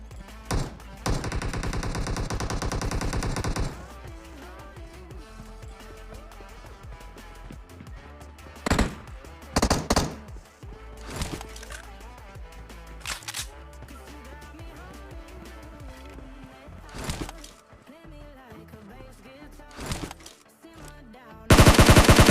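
Gunfire from PUBG Mobile crackles in rapid automatic bursts and scattered single shots over quieter game ambience, with a heavy close burst near the start and another at the end.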